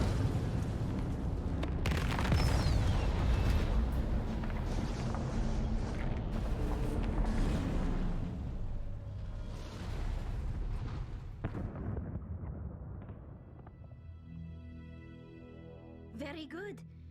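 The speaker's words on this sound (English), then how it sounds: "Explosions." Heavy booming explosions and rumbling blasts in Mass Effect Legendary Edition, loud and sustained at first, then fading, with a voice talking over them.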